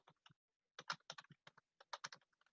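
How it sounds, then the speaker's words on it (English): Fingers type on a computer keyboard, producing quick, irregular bursts of crisp clicks close by with short pauses between runs, and no voices. "I'm typing it in right now."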